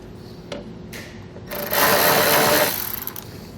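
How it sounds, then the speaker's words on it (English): An 8mm socket on a ratchet or power driver removing a bolt on a 2014 BMW X3 during a trailer hitch install, a few brief clicks followed by a loud, close, steady whirring burst lasting about a second. "Then we're going to take an 8mm socket. We're going to remove that bolt."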